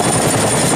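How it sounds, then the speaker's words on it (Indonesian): A toy rescue helicopter whirs steadily and loudly up close, a continuous buzzing drone with no voices over it. "Wah, ini ada helikopter kawan. Wow, ini helikopter penyelamat nih."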